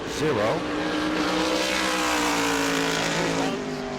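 A NASCAR Whelen Modified race car roars around the New Smyrna track in qualifying, a loud, sustained engine drone whose pitch dips and then climbs, with a commentator talking over it.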